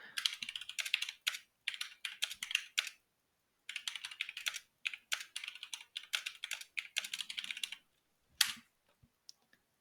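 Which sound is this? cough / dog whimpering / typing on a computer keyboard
typing on a computer keyboard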